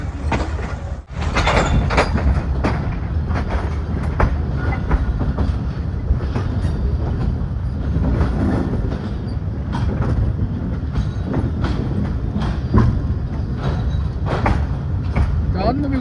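A Pakistani passenger train running from Karachi to Gujranwala rumbles loudly on the rails with steady rhythmic clatter and occasional squeals, heard from inside throughout, with people talking over it.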